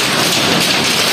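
Heavy rain mixed with hail pours down steadily, a loud dense hiss and patter that fills the space without a break and with no voices.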